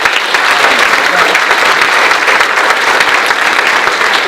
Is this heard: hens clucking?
no